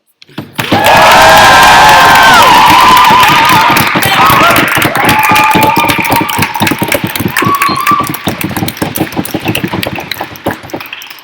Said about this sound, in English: I'd like the round of applause.